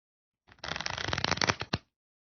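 Stiff playing cards pushed together and squared into a deck in a couple of quick motions during a Zarrow shuffle, giving a close, dense papery rustle that ends in two sharp taps, with no talking.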